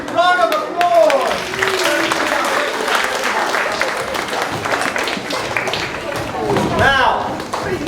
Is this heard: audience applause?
yes